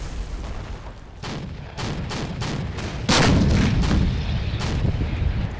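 Heavy gunfire and cannon blasts in the Red Rising Iraq War 2003 video game mod, repeated booming shots at irregular intervals over a constant rumbling battle background, loud and close.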